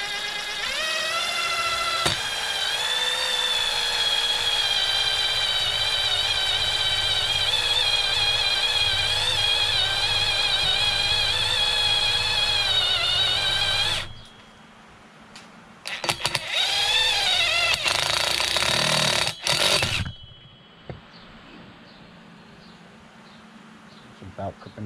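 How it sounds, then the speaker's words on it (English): A high, steady whine of a power drill running impact drill bits continuously for a long stretch, then shorter bursts of drilling separated by pauses. "I'm using my new impact drill bits"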